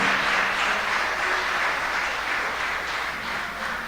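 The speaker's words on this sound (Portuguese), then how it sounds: "Você pode aplaudir o Senhor." A church congregation applauds the Lord during a sermon, a steady wash of many hands clapping at close range, holding evenly throughout with no speech over it.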